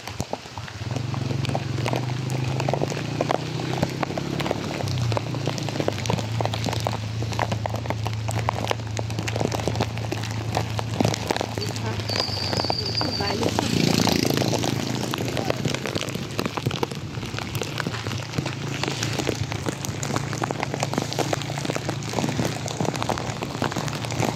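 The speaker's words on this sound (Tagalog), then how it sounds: "Paoti yung ulan" Heavy typhoon rain pours steadily and loudly throughout during Typhoon Carina in flooded Philippine streets, with a low engine-like hum running underneath for much of the time.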